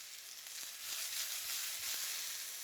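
Chopped shallots frying in a little olive oil in a pan, a steady soft hiss and crackle that swells slightly after the first moment, close and fairly quiet, with no voices.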